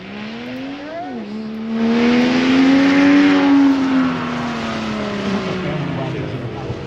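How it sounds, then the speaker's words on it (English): A car engine hums steadily, then rises in pitch as it revs up for a couple of seconds before easing back, with voices faintly underneath. "Your car sounds good."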